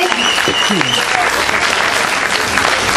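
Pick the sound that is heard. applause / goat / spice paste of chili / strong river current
applause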